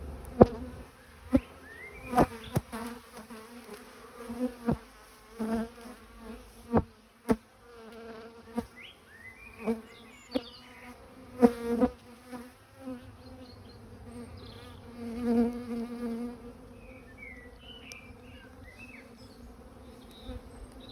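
Honeybees buzz around an open hive during an inspection, frame of drone comb lifted out, a steady close drone punctuated by sharp knocks and clicks of frames being handled.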